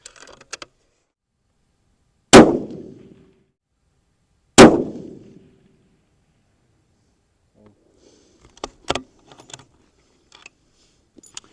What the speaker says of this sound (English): we'll go ahead and fire 2 more rounds and see what the string looks like